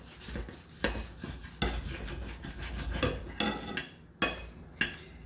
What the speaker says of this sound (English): And now, we just cut it in half and serve it. The aforementioned cheap kitchen knife.